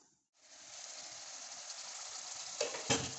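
Mutton stew sautés in a pot, a soft steady sizzle that rises after a short silent start, with two brief stirring scrapes toward the end.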